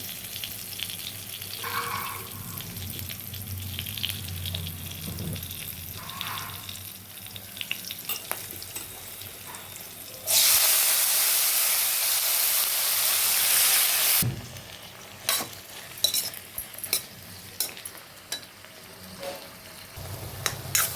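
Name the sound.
ridge gourd pieces frying in a pan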